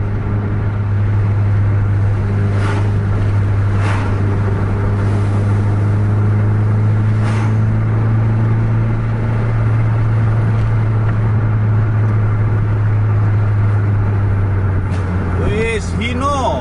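A Hino R260 bus and a Scania K410 bus drive along a road with a loud, sustained low engine drone, several soft horn-like or passing swells, and a voice talking near the end.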